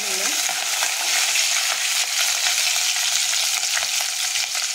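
Green chillies fry in hot oil with mustard seeds and cumin for a spinach khichdi, a loud, steady, close sizzle with crackling and stirring throughout.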